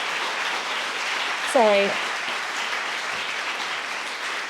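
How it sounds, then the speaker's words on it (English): Sustained audience applause at an evening event celebrating book cover design, a dense, even patter of clapping throughout, with a brief spoken word over it. "A huge round of applause, and for the speakers as well."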